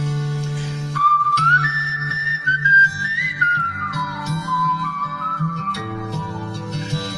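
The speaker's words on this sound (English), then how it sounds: "I've devised a little whistling intro for this and then whistle like this" A man whistles a short, gliding song intro live on stage in London in 1970, with the melody rising and falling clearly over a soft, sustained instrumental backing.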